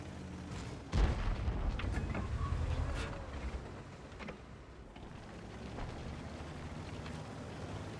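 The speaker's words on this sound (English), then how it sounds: "Alright, the artillery is just fired." Artillery fires in the tank battle game World of Tanks, a heavy boom and rumbling blast followed by scattered distant thuds and cracks over a steady low battlefield drone.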